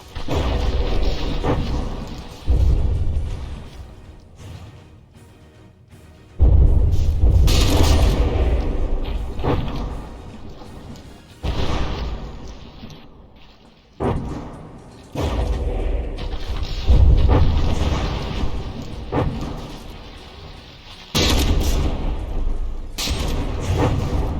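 Battleship guns firing and shells exploding in the From the Depths naval combat game, a series of heavy booming blasts and crashes in loud bursts separated by brief lulls, with mechanical rumble between them.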